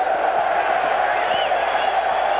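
A football stadium crowd at a Manchester United vs Juventus match in 2003 produces a steady, dense roar of cheering and chanting, continuous and spread wide across the whole short stretch.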